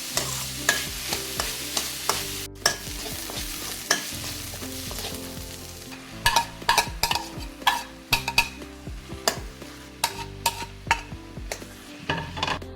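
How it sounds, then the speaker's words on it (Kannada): Onions and chopped tomatoes frying in a pan for egg ghee roast, with a steady sizzle under repeated close scraping and clinking stirring strokes, growing busier and more rhythmic in the second half. "ಕಟ್ ಮಾಡಿಟ್ಟುಕೊಂಡ ಟೊಮೆಟೊವನ್ನು ಸೇರಿಸಿ ಅದು ಕೂಡ ಚೆನ್ನಾಗಿ ಫ್ರೈ ಮಾಡೋದು."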